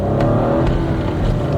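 A Kia Picanto pulls hard in first gear, its small engine giving a steady, close drone that rises as the car gains speed. No one speaks over it.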